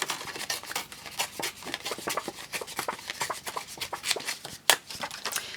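A sheet of 12x12 scrapbook paper is torn by hand in a long run of quick, crackly fibrous rips, fairly close and steady, with no talking over it.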